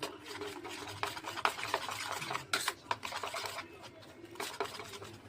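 A spoon scrapes and knocks inside a bowl while mixing an oats omelette batter with green chilli, black pepper, Maggi masala and salt, giving a quiet, irregular run of clinks and rubbing strokes.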